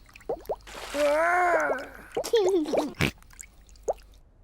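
Cartoon bath-time water sounds from a small pig character's bath shared with a toy dinosaur: a few light splashes and drips, with a sung or spoken voice and playful vocal sounds over them.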